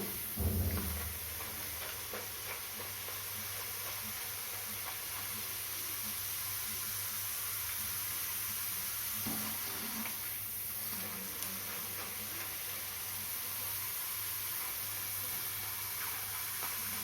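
Potato finger chips deep-fry in hot oil over a high flame, giving a steady, even sizzling hiss that holds throughout, close and without speech.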